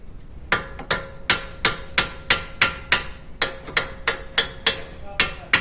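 A hammer striking bolts threaded into an Audi A3 front wheel hub to drive it out, about fourteen sharp metallic blows in a steady, slightly quickening rhythm, loud and close with a faint ringing tone.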